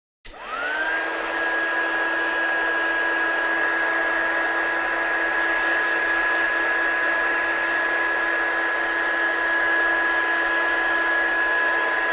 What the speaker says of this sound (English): So let's heat set this one with our gun.